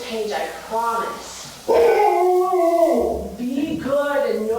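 A dog howls and whimpers up close in a long, wavering, drawn-out cry with rising and falling pitch, heard alone and fairly loud.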